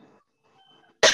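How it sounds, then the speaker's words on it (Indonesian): A single sharp cough from a presenter at a chocolate workshop, loud and close, following a brief stretch of near silence and faint murmur. "mohon maaf ini masih batuk"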